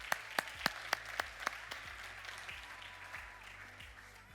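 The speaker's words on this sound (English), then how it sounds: "please join me with a round of applause to welcome Eva to the stage" Applause welcoming a presenter onto a conference stage, opening with a few sharp, distinct claps that blur into a softer, fading patter of an audience clapping at moderate distance.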